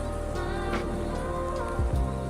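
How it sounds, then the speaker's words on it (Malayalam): Soft, steady patter of light rain falling outdoors in Shinjuku Gyoen National Garden, Tokyo, fairly faint, with a low hum of background noise. "ചെറിയൊരു മഴ പോലെയുണ്ട് ഇവിടെ."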